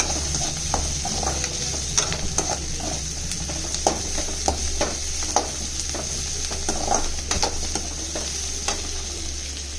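Chopped onions sautéing in a pan, a continuous close sizzle with frequent scraping and stirring clicks from a utensil, steady and fairly loud with no talk.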